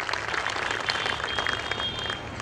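Audience applause fills a school annual day function at Carmel Convent School, Nandakhal, a dense, steady wash of many hands clapping together, held at an even level throughout.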